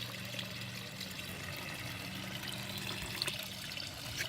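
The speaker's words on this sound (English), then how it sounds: "Got this Tetra fountain filter doing very well." A Tetra fountain filter runs in an outdoor container pond, giving a faint, steady trickle and splash of water with no voices.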